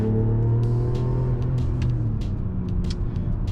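A 2024 Mazda CX-90, either the PHEV or the inline-six, accelerates with a steady, droning engine rumble. It is heard continuously from inside the cabin, with no talking.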